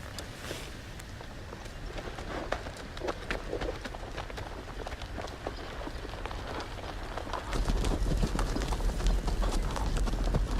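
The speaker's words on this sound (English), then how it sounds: "Can we get back on our horse?" A horse gallops in a Game of Thrones video game, its hooves beating a quick, continuous rhythm that grows louder and heavier toward the end.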